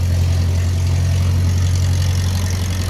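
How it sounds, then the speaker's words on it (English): Old W9 tractor engine running steadily outdoors, a loud, deep, even idle hum with no change across the short stretch. "That's a good sounding old tractor right there."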